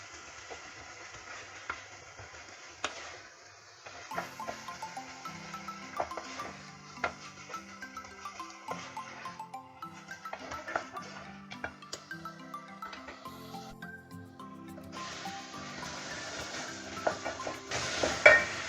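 Black chickpeas being roasted with spices in oil and ghee, giving soft sizzling with repeated stirring scrapes and clinks of a utensil against the pot, steady throughout and without talk.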